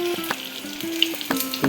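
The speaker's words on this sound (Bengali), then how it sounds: "দেখুন কি সুন্দরভাবে মোগলাইটা ভাজা হচ্ছে, ফ্রাই হচ্ছে কি সুন্দরভাবে।" A Mughlai paratha fries in hot oil with a steady close sizzle and crackle, broken by several soft knocks and bumps of a utensil against the pan; no one speaks.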